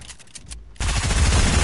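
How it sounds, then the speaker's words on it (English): Tactical submachine gun in a video game firing a loud, sustained automatic burst that starts abruptly after a few short shots and a brief gap, dense and continuous to the end. "No, the tactical submachine gun, it's back."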